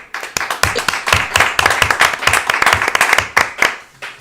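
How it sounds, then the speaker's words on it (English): A small crowd claps by hand at a community youth gathering, a dense run of sharp, overlapping claps that keeps going steadily for a few seconds, close and fairly loud, with no talking over it. "Are those real claps or is that an automated? Those are real claps."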